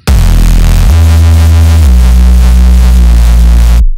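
A loud, buzzy Reese bass made in Serum drones heavily in mono, its low pitch stepping down twice, thick and gritty throughout before ending abruptly.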